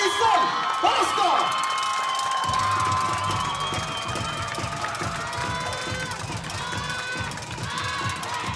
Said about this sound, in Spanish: por favor, demos una ronda de aplauso